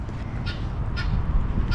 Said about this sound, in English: Got some ducks over there.